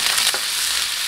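Green beans stir-frying in oil in a hot iron wok, a loud steady crackling sizzle with a brief scrape of stirring, no voices.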